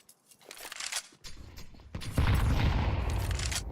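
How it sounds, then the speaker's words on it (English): Grenades going off in a Counter-Strike esports match, a GenOne versus ENCE Academy game: a quick series of sharp bursts and pops builds into a dense, loud barrage of blasts and rumble, with no talk over it. "a couple of nades there"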